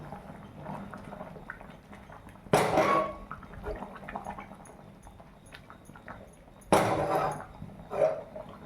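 A lid comes off a pot of simmering fish curry with a bright metallic clink and scrape, followed by a second clinking lift later, over a soft bubbling background.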